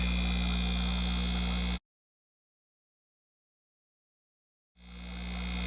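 An aquarium air pump gives off a steady buzzing hum that cuts out abruptly into silence for a few seconds, then starts up again.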